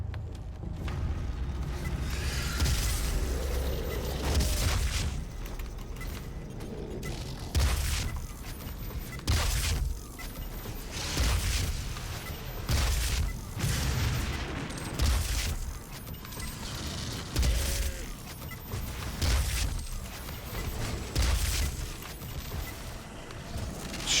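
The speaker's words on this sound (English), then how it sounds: "So we have to kill people with the Gauss Cannon on 1 health." Gauss Cannon shots and explosions in DOOM 2016 come as repeated loud booming blasts at irregular intervals over dense, continuous game noise.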